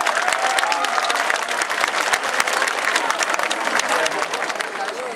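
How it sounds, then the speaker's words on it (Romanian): Festival crowd applauding a band at a 2011 summer festival, dense steady clapping filling the whole stretch with a faint murmur of voices underneath. "Vă rugăm foarte multe aplauze!"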